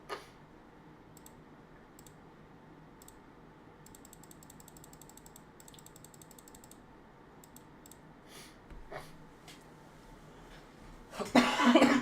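A burst of coughing near the end, loud and close, after a stretch of quiet background with light clicking.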